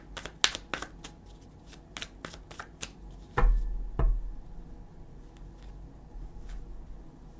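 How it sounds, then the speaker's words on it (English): Tarot cards are shuffled by hand in a quiet room, a quick series of crisp riffling flicks followed by a couple of heavier thumps as the deck is squared, then softer rustling. "I'm just going to pull, but I'm going to really shuffle these up."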